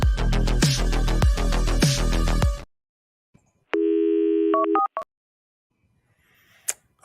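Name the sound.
telephone dial tone while connecting the phone system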